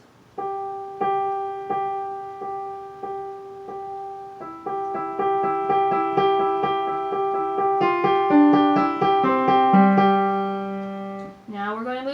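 A piano plays a simple melody line with repeated bass notes underneath, steady and moderately loud, building to a fuller final phrase.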